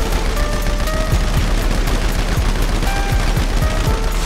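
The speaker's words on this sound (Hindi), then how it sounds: "मिनी गन निकाल दी मैंने अपनी" A minigun fired in Grand Theft Auto V, a loud, unbroken rapid stream of shots with a steady rattling rhythm running the whole time, with no talking.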